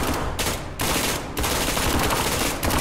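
Heavy enemy gunfire rips through a shooter game firefight, a loud continuous barrage of automatic shots with brief gaps and no voices over it.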